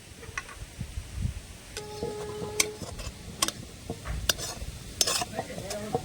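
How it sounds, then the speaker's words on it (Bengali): Pitha dough being stirred in a pan for a Bengali sweet, with repeated close scraping and clinking strokes and a faint sizzle running underneath, and no voices. "এবার নেড়েচেড়ে একটা ডো বানিয়ে নেব"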